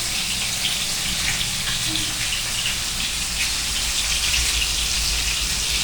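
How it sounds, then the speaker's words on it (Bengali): Fish pieces fry in hot oil in a pan, a dense, even crackling sizzle that stays loud and close for the whole stretch with no talking over it. "মাছটা ভাজা হোক, তারপর আমাদের দেখাবো।"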